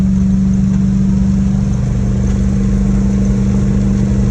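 A vehicle engine holds a steady loud drone at about 2,800 RPM on eastbound Highway 180, with constant road rumble and no voices.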